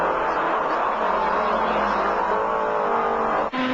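Onboard a Ford Falcon touring car racing at Bathurst's Mount Panorama in 1980, a loud steady engine drone at high revs fills the cabin continuously, with a brief dip near the end.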